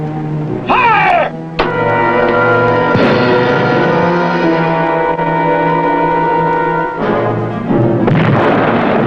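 Torpedoes fired from the WWII submarine USS Bergall (SS-320): loud, close launch bursts followed by a sustained roaring, tonal rush, then more bursts near the end.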